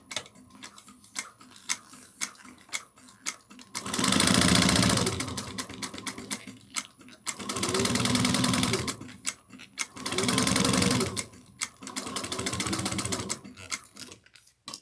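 A sewing machine back stitching: three bursts of steady motor whirring and needle chatter, each a couple of seconds long, separated by quieter ticking and clicking while the fabric is adjusted.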